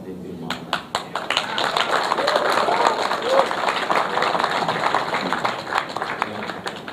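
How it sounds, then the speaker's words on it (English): Audience at a live press conference about Dr Mahathir's nomination as Prime Minister claps steadily throughout, a dense patter of many hands mixed with some crowd noise, with no clear speech over it. "You may well clap"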